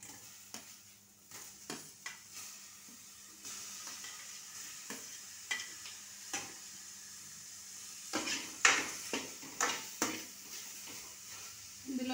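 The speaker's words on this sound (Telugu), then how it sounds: "టమాటా వేస్తున్నానండి" Tomato being added to a pan with lightly browned cumin and mustard seeds, with oil, for a ridged gourd curry: a soft frying hiss with repeated scraping stirs and utensil knocks, growing busier toward the end, no talk.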